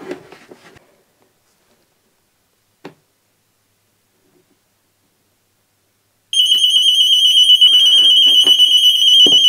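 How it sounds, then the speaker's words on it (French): A fire alarm in a workshop sounds suddenly after near silence and a few faint knocks, a loud piercing electronic tone that pulses continuously to the end. "Et là, ça déclenche l'alarme incendie"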